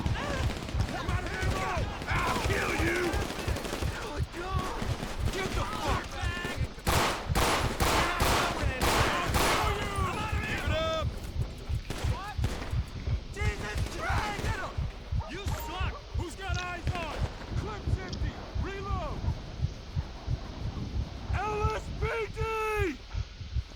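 Heavy gunfire fills a gang shootout in the police game LSPDFR, with rapid bursts and single shots cracking in dense volleys and fading into scattered reports, while voices talk now and then.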